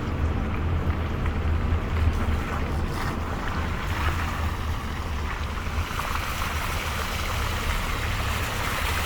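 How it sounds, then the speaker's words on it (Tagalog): Floodwater from heavy rain rushes along a flooded street in Tasman, a steady loud broadband wash of churning water that stays continuous and close throughout with no voices. "Grabe na ang baha"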